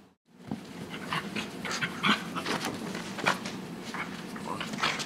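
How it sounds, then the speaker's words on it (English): A big dog pants and whimpers close by, with rapid breathy pants and high whines repeating irregularly over several seconds, mostly alone with little other sound. "Get out of the way, big crazy dog."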